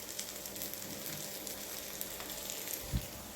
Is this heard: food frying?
yes